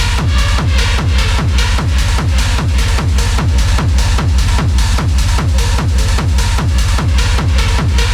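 Industrial techno track driven by a pounding, heavily saturated kick on a steady four-on-the-floor pulse, dense distorted noise and harmonics from digital and analog clipping filling the mix, loud and continuous with no voices.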